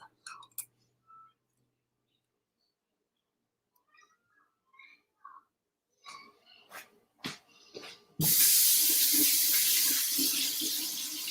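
Water runs steadily from a tap over hands being washed for the last few seconds, loud and continuous, after a stretch of quiet clicks and small handling noises.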